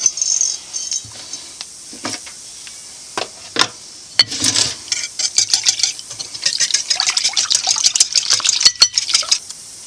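Eggs beaten with a whisk in a bowl for French toast: quick irregular metallic clinks and taps against the bowl, sparse at first and then building into a steady brisk rhythm, close and fairly loud, with no talking.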